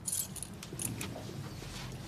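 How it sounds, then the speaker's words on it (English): A bunch of factory keys jangles close by in a steady metallic rattle, with a brighter cluster of clinks near the start and no talk over it. "These are my factory keys."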